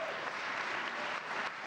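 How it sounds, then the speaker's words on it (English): Steady, dense applause from an audience after Canadian Prime Minister Stephen Harper's economic speech, a broad wash of clapping hands that holds at an even level throughout with no voices over it. "Harper did not bask in the applause for long"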